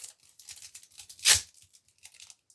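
A package being cut open with big scissors: soft scattered snips and crinkles, then one loud short tearing rip in the middle, followed by faint rustling.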